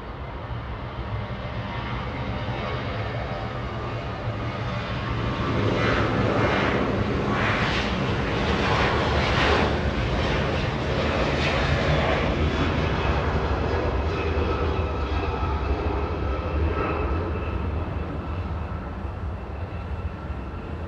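An Aeromexico airliner, a flight to Guadalajara, takes off from Los Angeles International Airport with a heavy, sustained jet roar that builds to a peak near the middle and stays loud as it climbs away.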